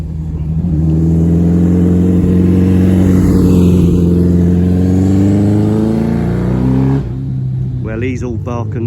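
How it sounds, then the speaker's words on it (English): A motorcycle with a loud exhaust climbs a hill at easy throttle, its deep droning note swelling as it approaches and then cutting off, followed by a person speaking. "He's got a loud exhaust, but he's not really pushing his bike much"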